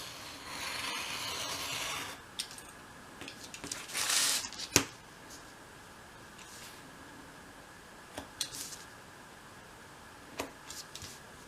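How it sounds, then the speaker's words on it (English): Trimming a paper template for a doll's house attic wall makes soft rubbing and rasping strokes, with a brief louder scraping burst and a few scattered small clicks, faint and close with no talk. "I've just trimmed a little bit from this back edge of the template"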